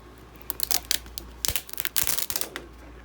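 Cut stencil sheet peeled off a cutting mat: a string of crisp crinkling, rustling and soft tearing bursts, close and moderately loud, with a few short pauses and no talking.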